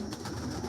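Pigeons cooing softly in a loft where birds are kept for sale, a short low murmur of several birds close by with no talk.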